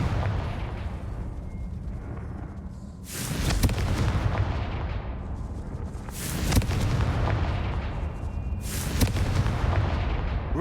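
The Confringo explosive spell in Hogwarts Legacy goes off three times, each a loud, booming burst that rolls and crackles for a moment before fading, set against a steady rumbling battle background.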